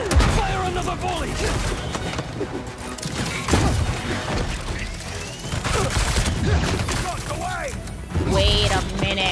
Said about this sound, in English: Fire another volley!